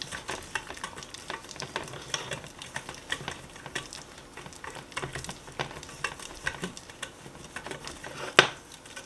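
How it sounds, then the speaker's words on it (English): A butter and flour roux for white sauce being stirred steadily in a pan, with repeated close scraping strokes over a faint bubbling sizzle and a sharp utensil knock near the end. "you want to keep stirring this because you don't want to have any lumps in the butter and the flour."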